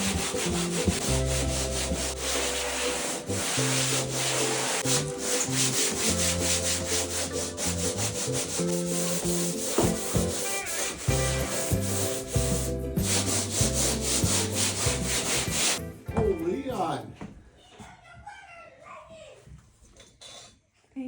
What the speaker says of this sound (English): I'm using a pool sander with 220 grit sandpaper